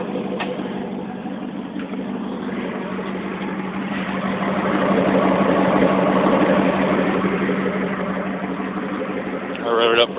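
A 1996 Grand Cherokee 4x4 V8 with no exhaust tip idles in a parking lot, a steady low rumble with a slight swell midway, while someone speaks over it.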